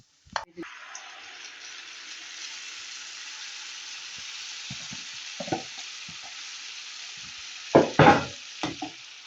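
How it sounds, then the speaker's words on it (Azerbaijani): Onions with salt fry in a pan with a steady, even sizzle, interrupted by a few clattering stirs that grow louder toward the end. "İndi qoyuruq soğan qızarsın."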